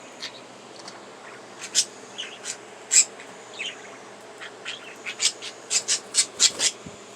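Pet budgies squawk and chirp indoors in short, sharp calls that come faster toward the end, close and fairly loud over a low background hum.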